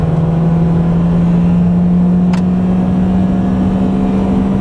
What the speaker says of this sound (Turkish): Dip gazdayım. Tam 6000 devir 6000 devir çeviriyor arkadaşlar.